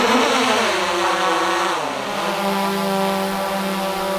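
A DJI Mavic 2 Pro or Zoom quadcopter drone hovers close by, lowered to just above head height for a hand catch, giving a loud, steady multi-toned buzz whose pitch dips and shifts briefly as the motors adjust.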